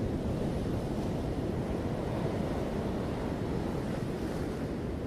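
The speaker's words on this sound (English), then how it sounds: "allow your mind to be cleansed, to be cleared, to be emptied by the sound of these waves." Ocean waves wash in a steady, dense roar of surf with some wind rumble, continuous and fairly loud, with no voices.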